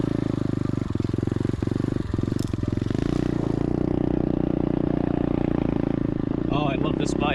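An SSR 125 automatic dirt bike's engine drones steadily while being ridden over grass, a continuous close motor hum with some rattling and clatter.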